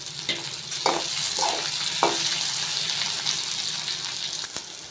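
Chutney ingredients with curry leaves and coriander sauté in a hot pan, a steady close sizzle and frying hiss running throughout with a few soft stirring scrapes and clinks.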